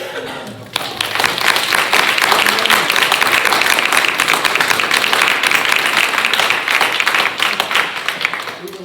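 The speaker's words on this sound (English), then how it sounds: "Please give all of our candidates a round of applause." A school board event audience applauds its candidates with dense, sustained clapping that holds at a steady level for several seconds after a brief quieter start.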